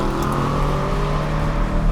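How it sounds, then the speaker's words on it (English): An Aston Martin DBX 707, a 700-horsepower SUV, roars steadily and loudly at speed on a German autobahn. The engine drone holds constant throughout, with no voices. "Charging along in a 700 horsepower SUV"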